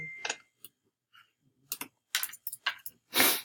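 Scattered keyboard taps come in short irregular bursts, with a louder flurry near the end, close by and with no talking.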